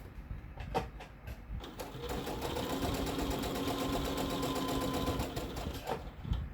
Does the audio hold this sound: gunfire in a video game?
no